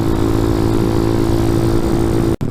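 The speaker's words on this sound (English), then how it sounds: "there goes my bike again. It was just breaking up, hopping, running like trash." A motorcycle engine breaking up and sputtering, running rough with an uneven, hopping note, loud and steady close by before a sudden brief cutout near the end.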